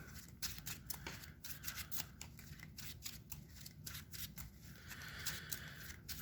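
Playing cards from a Yu-Gi-Oh Red-Eyes deck are shuffled in quick, soft riffling and rubbing bursts, faint and close, with no talking.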